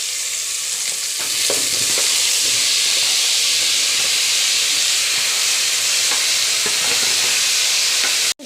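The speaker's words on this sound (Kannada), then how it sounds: "ನೋಡಿ ಈಗ ಚೆನ್ನಾಗಿ ಫ್ರೈ ಆಗ್ತಿದೆ" Potato, drumstick and chickpeas fry loudly in a pan, a dense, constant close sizzle and hiss with faint stirring scrapes, cutting off abruptly at the end.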